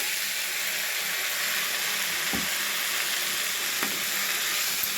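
Washed moong dal and ponnaganti leaves steadily sizzle in a frying pan, with two soft scraping stirs partway through under a constant close hiss.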